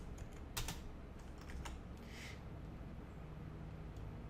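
Typing on a computer keyboard, a few quick faint key clicks in small bursts over a quiet background, no talk.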